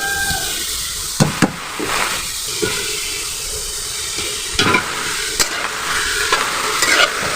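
Pumpkin leaves fry and sizzle in a pan, a steady broadband hiss broken by louder scrapes and stirring knocks at irregular intervals, close and moderately loud with no voices.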